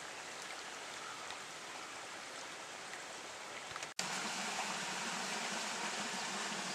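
Creek water flowing steadily beneath a crossing over the main creek beside a field, a continuous broadband rush heard alone that grows noticeably louder and closer partway through.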